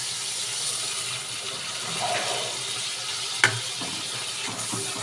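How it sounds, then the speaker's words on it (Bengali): Tomato paste and spices fry and sizzle in a pan with steady, close stirring and a soft sharp clink partway through; no one speaks. "টমেটো বাটা দিয়ে আবারও আমি ভালো করে কষাতে থাকব"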